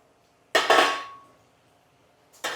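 A metal spoon strikes and scrapes a pan while semiya is mixed with jaggery syrup and banana: one loud, ringing clank that slowly fades, then another sharp knock near the end, close up with no talking.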